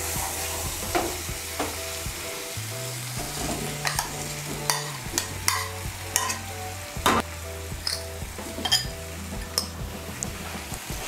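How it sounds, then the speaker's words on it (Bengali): Fried young jackfruit and potato are stirred into a spice mixture in a pan, with a soft sizzle underneath and repeated scraping and clinking of the spoon against the pan, up close and with no talking. "ইঁচড় আর আলুটাকে মশলার সঙ্গে ভালো করে মিশিয়ে নেব।"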